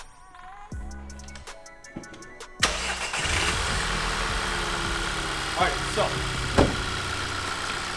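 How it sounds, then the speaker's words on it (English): A 2013 Volkswagen GTI mk6 with a manual gearbox and Stage 1 tune cranks and fires up, then settles into a steady, close, loud idle with a few small knocks. Someone speaks briefly over the starter at the beginning. "Start your car up, make sure it's warm, idling."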